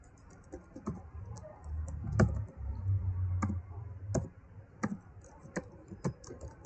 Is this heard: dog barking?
no